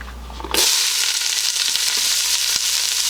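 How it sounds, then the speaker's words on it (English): Onions, carrots and celery hit shimmering hot oil in a pot for homemade bean soup, setting off a loud, steady sizzle that starts abruptly and keeps roaring close by with faint stirring clicks. "now the next thing I'm going to do is I'm going to add my onions"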